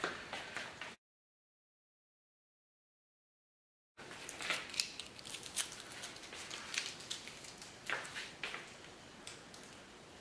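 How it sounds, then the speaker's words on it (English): 3M adhesive backing peeling off an OEM knee pad on a Kawasaki Ninja 400 motorcycle, heard as close, crackly ticking and tearing bursts, broken by a stretch of total silence partway through. "Okay, so I'm trying to peel the 3M backing."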